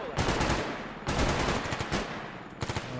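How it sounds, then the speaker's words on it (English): Sniper rifle shots in S.T.A.L.K.E.R. GAMMA: about four loud, sharp cracks, each followed by a rumbling tail, fired at irregular intervals of roughly a second. "We got to try out the sniper rifle"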